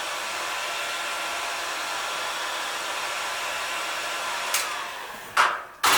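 A heat gun blows in a steady, even broadband hiss while heating vinyl wrap on a motorcycle helmet, holding level for several seconds before brief bumps and a sharp cut-off near the end.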